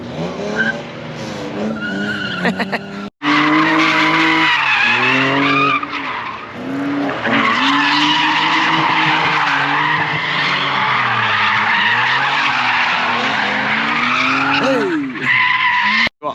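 A BMW drifts a figure-eight at Crail Raceway, its tires squealing loudly and almost continuously as the engine revs rise and fall, with brief voices among the noise.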